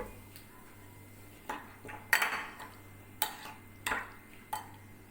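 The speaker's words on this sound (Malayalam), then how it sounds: "1 ടീസ്പൂണോളം വിനീഗറും കൂടി ചേർത്ത് നല്ലോണം ഒന്ന് മിക്സ് ചെയ്ത് വെക്കണം" Spoon clinks and scrapes against a bowl while a marinade with pepper powder and vinegar is stirred, giving a handful of separate sharp metallic taps at irregular intervals over a low steady hum, close and quiet.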